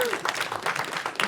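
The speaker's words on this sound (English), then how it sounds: "keep clapping" Audience applause at a film project screening in Inverness, dense clapping running under a presenter's speech throughout.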